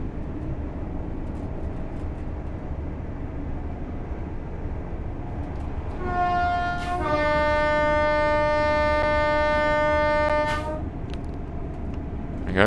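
A Class 801 train sounds its two-tone horn for a level crossing in Train Sim World 6 on the East Coast Main Line, loud sustained blasts over a constant low rumble of running gear.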